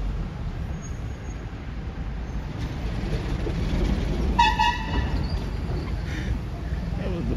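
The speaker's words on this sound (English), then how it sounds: "That was the bus that made that horn sound." A city bus honks on a busy street in Barranco, Lima, Peru, giving a short, bright horn blast over steady traffic rumble, then a fainter second toot a moment later.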